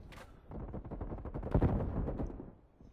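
A rapid burst of automatic gunfire in the video game Black Ops Cold War, moderately loud, with rattling shots swelling to a peak mid-burst and then fading out.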